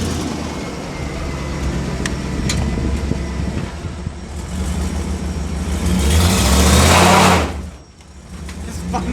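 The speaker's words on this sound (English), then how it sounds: "It spun both tires." High-horsepower car under hard throttle, engine revving and building to a loud surge with a broad hiss of both tires spinning before it drops away.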